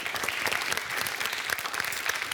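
A school audience gives a dense, continuous round of applause for the Brezovica pri Ljubljani primary school team at a quiz-style competition, many hands clapping at moderate volume throughout.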